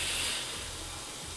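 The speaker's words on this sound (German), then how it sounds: "Ich spüle, wie gesagt, den Siebträger einmal aus." An IL BARISTA espresso machine's group head flushes through the portafilter, giving a steady, close, fairly loud hiss of water and steam that holds for a short moment without pause.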